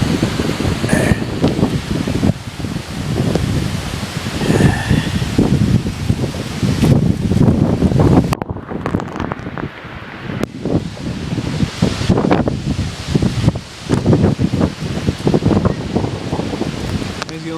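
Strong gusting wind from a June 2012 derecho windstorm roars and buffets loudly and continuously, rising and falling with a brief lull midway, rustling and rushing close by.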